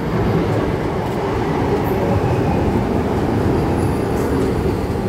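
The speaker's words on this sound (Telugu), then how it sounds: "మా ట్రైన్ వచ్చేసింది." The Kondaveedu Express rolls into a station with a steady, heavy rumble of wheels and carriages, loud and close, continuing without a break.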